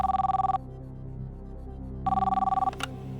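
A telephone rings for an outgoing call placed from a TV quiz show stage: two clear electronic ring bursts separated by a pause, heard alone with a faint low hum beneath.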